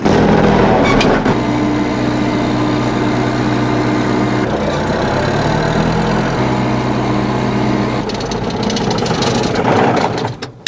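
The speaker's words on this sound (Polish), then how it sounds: "Bardzo fajny traktorek, malutki, z przednim napędem." A small front-wheel-drive tractor engine runs steadily and loud up close, a constant low chugging rumble that shifts pitch slightly a few times.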